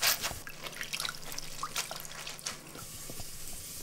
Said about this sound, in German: Und jetzt holen wir das Brot aus dem Wasser. Drücken es zunächst gut aus.